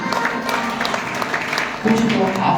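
Steady applause from an audience at a Shiva Mahapuran religious discourse gathering in Bangkok, continuous clapping with a crowd murmur underneath, swelling slightly louder near the end.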